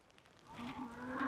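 A cow moos from across a path in a bushy outdoor area, one drawn-out, fairly loud low call that swells toward the end, with no talking over it.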